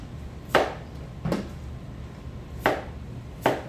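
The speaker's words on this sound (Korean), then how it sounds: "당근은 먼저 통 당근을 넓이 1cm로 썰어서" A knife chops through a whole carrot into 1 cm slices on a cutting board, four sharp, separate thunks spaced unevenly, close and clear with no talk.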